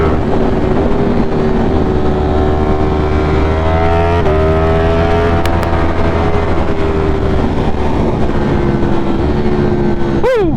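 A 200+ hp motorcycle accelerating hard on a morning commute, a loud close engine drone with a rising pitch and shifting gear changes, steady wind rush throughout, no talking.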